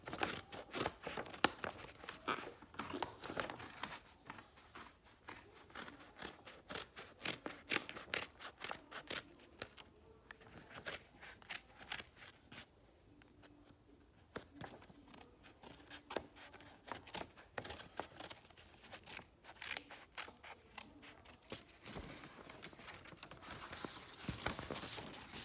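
Scissors snip repeatedly through paper for a mouse craft, a quick close run of crisp cuts with short pauses, plus light paper rustling.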